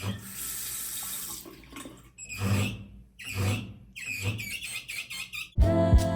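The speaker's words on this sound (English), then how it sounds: "The water pressure is solid and the faucet looks beautiful, even if it sounds like this." A hotel bathroom faucet runs water with a repeated high squealing whine in several pulses, followed by a louder gush at the end.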